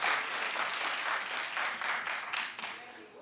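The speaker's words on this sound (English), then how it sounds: "Clap if you watched Empire last night." Studio audience applauding on a daytime talk show, a dense burst of many hands clapping that holds steady, then tapers and fades toward the end.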